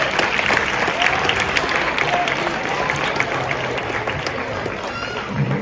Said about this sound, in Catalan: Un fort aplaudiment per a ell.